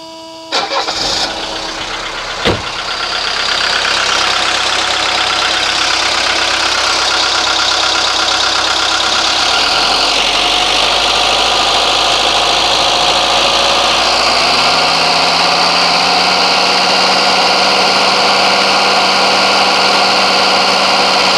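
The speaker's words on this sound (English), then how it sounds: "let me crank it back up and let's keep on going" A 1983 Mercedes 240D diesel engine cranks with a brief starter burst, then catches and settles into a steady, loud, clattering idle that runs on alone for about twenty seconds.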